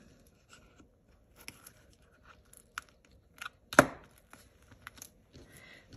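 Adhesive tape is ripped off a paper pocket card in one sharp, close tearing burst partway through, with faint crafting rustles and taps scattered around it.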